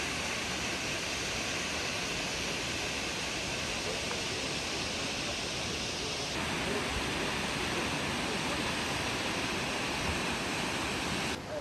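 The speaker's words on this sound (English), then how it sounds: "You can already hear the water. It's coming from the mountain." Steady, broadband roar of rushing water from a mountain waterfall in Morocco, loud and continuous, with no pauses or voices over it.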